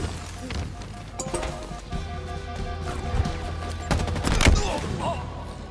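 Rapid bursts of gunfire from Halo Infinite multiplayer combat between Spartans, with repeated shots and impacts over game music, heaviest near the end.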